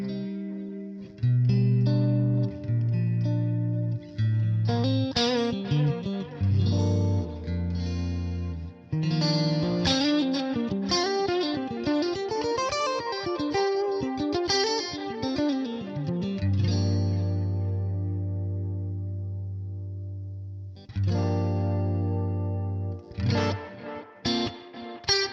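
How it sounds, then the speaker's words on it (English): An electric guitar played through a Neural DSP Nano Cortex with reverb rings out in sustained chords and busy melodic runs, notes trailing into a wash of echo, with a pause before the chords return. "That seems to be the reverb."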